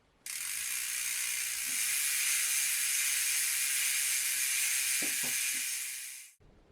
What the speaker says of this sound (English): I will let you enjoy the sound from this Hope Hub a bit more.